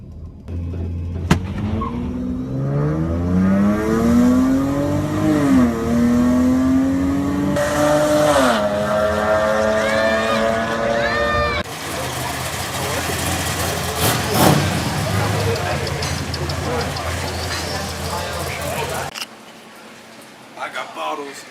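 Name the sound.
race car driving fast, pulling away from an NSX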